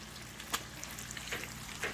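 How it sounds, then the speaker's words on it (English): Steady crackling sizzle of bacon frying in a hot cast iron skillet, with a few sharper pops now and then, close and moderately loud with no voices. "Sizzle, sizzle in the pan."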